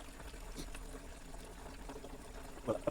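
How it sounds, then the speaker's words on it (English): Fuel trickling out of the fuel lines of a Nibbi G619 walk-behind tractor, a faint steady pouring stream with a brief louder splash near the end. "I'm draining from both lines now"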